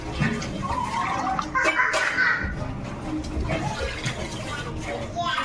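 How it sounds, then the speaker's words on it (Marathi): Water poured from a glass onto fried rice in a pot for pea rice, a gurgling, splashing flow heard close, with people talking softly alongside. "चार वाटी तांदूळ आहे आम्ही याला आमच्या मापाने चार ग्लास पाणी होतो"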